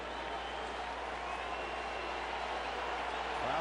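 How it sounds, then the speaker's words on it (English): A crowd at a Mets at Cubs baseball game in the Cubs' stadium cheers and claps in a steady, distant roar that swells slightly toward the end. "Crowd getting into it here."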